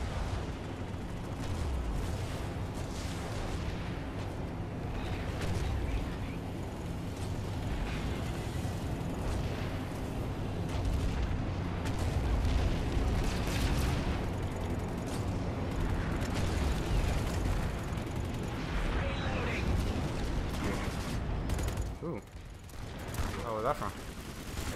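Repeated cannon fire and explosive bursts in a PS4 online shooter battle, dense and continuous across the clip, with someone talking over the gunfire.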